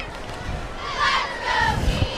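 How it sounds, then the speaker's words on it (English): A crowd at a high school football game cheers and shouts in swelling bursts from a distance, at moderate loudness. "cheers out here, they're doing the hardest. Palm is out here, they're cheering the squad along"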